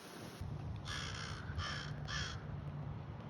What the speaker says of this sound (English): Hi, Mr. Crow